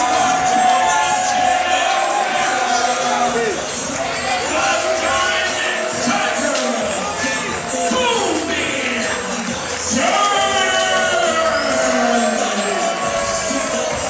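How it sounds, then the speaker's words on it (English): Wrestling crowd at an eight-man scramble match, a dense continuous roar of cheering, shouting and clapping that swells and stays loud throughout. "Was that applause for Kobe Durst?"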